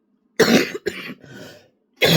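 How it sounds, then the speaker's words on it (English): Several harsh coughs come in a quick fit, close and loud, with a brief pause before another burst of coughing. "of course I am doing a video and I have a coughing fit"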